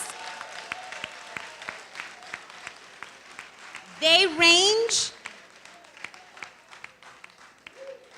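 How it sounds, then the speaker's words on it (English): Brief burst of applause from a Brooklyn senior day audience honoring centenarians, erupting for about a second amid a speaker's amplified talk that continues before and after. "Now give them a round of applause."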